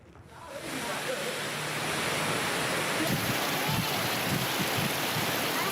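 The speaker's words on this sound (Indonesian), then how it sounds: "Hujan deras disertai angin kencang dan petir melanda seluruh wilayah di Kabupaten Maros, Sulawesi Selatan." Heavy rain with hail and strong wind in Maros, South Sulawesi, a dense continuous roar of wash and pelting that builds within the first second and stays loud and steady throughout.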